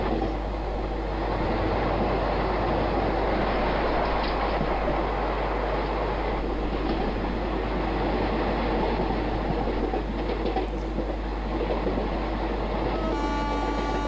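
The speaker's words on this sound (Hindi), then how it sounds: "स्पीड के अकॉर्डिंग जो है यहाँ पे साउंड्स को सेट किया गया है" A train running in the MSTS/Open Rails simulator, on an Indian express route: a steady rumbling roll with faint rhythmic clicking of wheels on rail joints, continuous and even throughout, with no talk.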